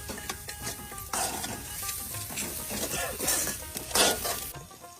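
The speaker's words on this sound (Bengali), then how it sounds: "পেঁয়াজ মরিচ ভাজা শেষ, এই যে বাই মাছের সেই টুকরা গুলা দিয়ে দেওয়া হচ্ছে।" Fish pieces dropped into a pan of fried onions and chillies at an outdoor village cooking spot, sizzling steadily with clattering stirring and scraping of utensils, close up and loud throughout.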